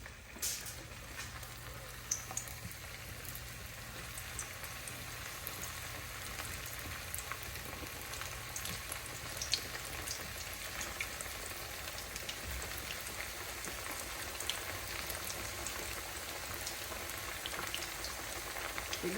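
Plantain pieces frying in oil in a pot for Jamaican pressed plantain, giving a soft, even, rain-like sizzle with scattered small pops that stays low and constant throughout.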